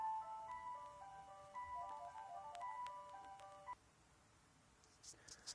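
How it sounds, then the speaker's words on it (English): A phone sounds a quiet electronic ringtone melody of stepped beeping notes indoors, lasting a few seconds before stopping, followed by faint rustles. "Excuse me a minute, the phone's going."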